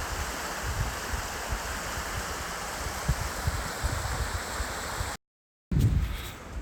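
A stream flows through a valley on a North Wales hike: a steady, close rushing of water that holds constant, then briefly drops out and returns.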